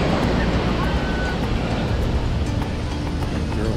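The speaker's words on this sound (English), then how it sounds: "And there's the crashing waves." Ocean surf crashing onto the shore and rocks beside the Santa Cruz Wharf boardwalk in California, a steady loud wash of broadband noise with some wind buffeting and no clear breaks.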